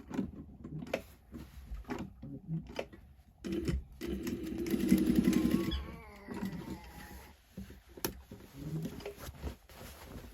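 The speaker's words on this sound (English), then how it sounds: "So I'm just going to sew it all the way around." A sewing machine stitches around the lining opening of a homemade tote bag, running in short bursts of rapid mechanical whirring with a longer steady run in the middle, close and fairly quiet.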